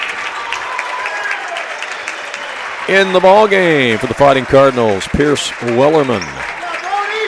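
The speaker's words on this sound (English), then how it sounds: "He gets a big round of applause from the NCOE faithful" The crowd at a high school boys' Class M trophy basketball game applauds loudly and continuously as the Fighting Cardinals send in a substitute, with an announcer talking over the clapping.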